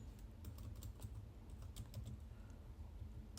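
Quick, light keystrokes on a computer keyboard, irregular clicks and taps in short runs with brief pauses, close and fairly quiet against a soft background hum.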